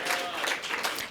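A brief burst of audience applause at a campaign event for a Republican attorney general candidate, dense even clapping from a moderate-sized crowd, fairly loud and close, with no speech over it.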